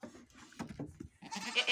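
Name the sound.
Alpine goats and kids bleating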